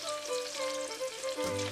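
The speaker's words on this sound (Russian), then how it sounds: "Жарим на сильном огне." Pieces of rabbit frying in butter over high heat in a pan, giving a steady close sizzle and crackle that runs without a break.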